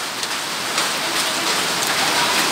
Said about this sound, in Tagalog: Yung mga buhangin natin, inuulan na ng yelo.